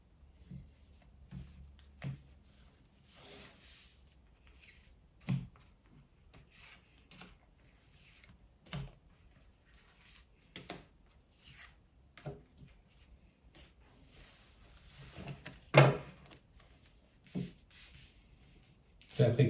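Tarot cards shuffled and drawn by hand, a soft papery rubbing and flicking broken by scattered light snaps and taps at irregular intervals, close and fairly quiet.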